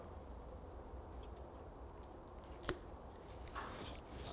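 Pruning shears cut through a standard rose bush stem with one sharp, close snip, followed by a fainter click, against quiet outdoor background.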